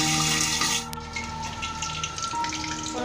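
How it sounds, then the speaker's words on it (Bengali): Nigella seeds and two green chilies splutter in hot oil in a covered pan for a papaya and chickpea curry, a loud, steady hiss with scattered crackles close by. "আমি কালো জিরে আর দুটো কাঁচা লঙ্কা ফাটিয়ে দিয়ে দিলাম।"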